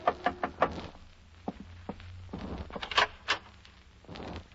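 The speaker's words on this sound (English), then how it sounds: "I was in my hotel room packing when a knock on the door changed my mind again." Knocking on a hotel room door in a 1950 radio drama, a few firm raps spread through the clip, close and fairly quiet against a low hum.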